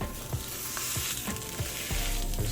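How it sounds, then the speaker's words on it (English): Chopped beef and onions sizzle on a hot flat griddle for a chopped cheese sandwich, a steady crackling fry with small scraping stirs, close and continuous without talk. "Let's get this meat on the heat, baby. But we want to throw our onions down."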